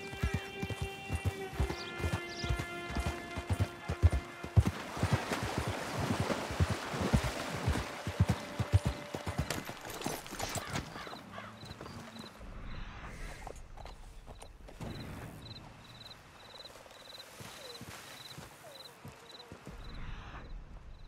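Horse hooves clip-clop in Red Dead Redemption 2, a busy stretch of steps at first over music and game ambience, then quieter, sparser footfalls with a repeating high chime later.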